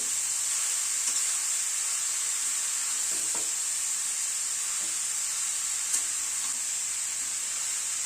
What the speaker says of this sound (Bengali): এবার এই গাজরটাকে ঘিয়ের মধ্যে ভেজে নেব।